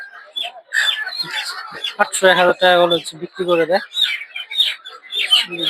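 Native chickens cluck and call at a busy village poultry market, their short calls mixed in beneath steady, close talk from people bargaining.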